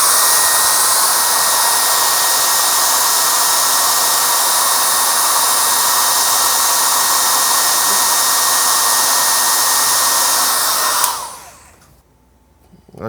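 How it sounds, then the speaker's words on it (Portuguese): A hair dryer blows on a soldered phone circuit board, a loud, steady roaring whoosh that holds for about eleven seconds before cutting off and winding down into quiet. "Aí com o secador, geralmente eu faço isso aqui."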